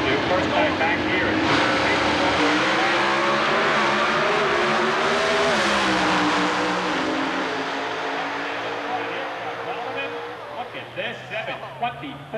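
A Pro Stock Dodge Avenger drag race car launches with a loud, sustained engine roar that climbs in pitch and then fades as it pulls away down the strip, while an announcer talks throughout.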